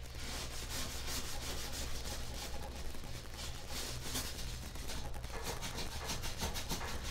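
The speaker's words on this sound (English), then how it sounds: "this is heavy duty scrubbing." Heavy-duty scrubbing on a stove, a continuous rough rubbing and scouring with quick back-and-forth strokes, close and steady throughout with no talk.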